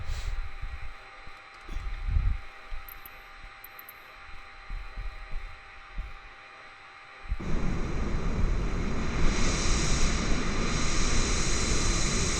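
Aircraft auxiliary power unit starting in Microsoft Flight Simulator 2020, a quiet throbbing hum that jumps abruptly into a loud, steady whine-laden roar partway through, no talk.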